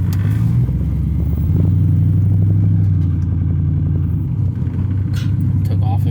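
An LS10-engined car pulls away in first and shifts up into second, a loud steady low engine rumble that holds strong, dips briefly around a gear change, then carries on close by.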